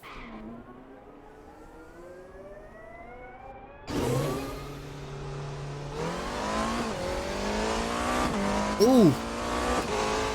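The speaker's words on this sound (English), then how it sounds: "The new hypercars on Raceroom." Hypercar engine in the Raceroom racing game revving and shifting up through the gears, a raw rising whine with a brief squeal near the end, under a short spoken exclamation.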